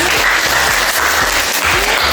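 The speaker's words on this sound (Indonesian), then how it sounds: "Tepuk tangan untuk Adli." Classroom applause during an economics role-play lesson, a steady dense clatter of students' hands that runs loud and close for the whole stretch, with faint voices murmuring beneath it.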